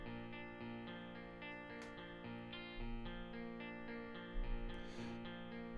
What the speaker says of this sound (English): we've got an echo here